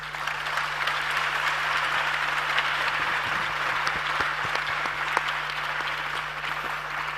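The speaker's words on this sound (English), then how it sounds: "let's hear a round of applause for our" An audience at a youth dialogue event gives a round of applause, a steady wash of clapping from many hands that holds at an even, fairly loud level throughout with no talk over it.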